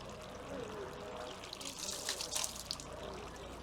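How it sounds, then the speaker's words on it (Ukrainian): Water splashes and trickles in an uneven stream as hands are rinsed at a Japanese temple purification basin on Mount Takao, with soft background murmur throughout. "Традиційно перед входом до японських храмів ми миємо руки."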